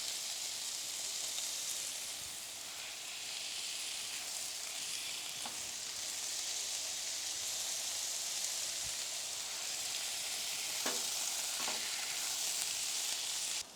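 Steady, loud broadband sizzle of smash burgers frying on a hot Blackstone griddle, continuous throughout with a few faint clicks and scrapes underneath.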